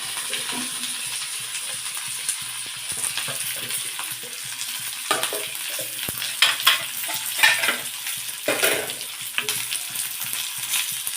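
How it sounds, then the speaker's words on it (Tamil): Garlic, small onions, curry leaves and coriander sizzle and crackle steadily as they are stirred in a hot pan for a Chettinad tamarind curry paste, with scraping strokes that grow busier toward the end. "பூண்டு சின்ன வெங்காயம் கருவேப்பிலை மல்லித்தலை எல்லாத்தையும் போட்டுடலாம் வதக்கி அரைச்சோம்னா நல்ல குழம்பு வாசமாக இருக்கும்"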